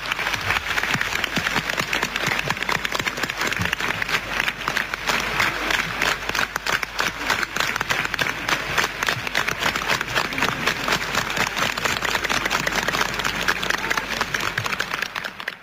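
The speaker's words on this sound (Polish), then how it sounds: "Tym razem bardzo Wam dziękuję za te oklaski w imieniu Mickiewicza." Sustained applause from a large crowd of young people at an outdoor gathering in 1979, dense and steady clapping throughout, loud and continuous with a faint murmur of voices mixed in.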